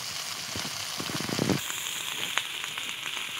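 Cauliflower florets frying in hot oil in a wok give a steady close sizzle and crackle throughout, with a louder burst of spattering in the middle and no talking.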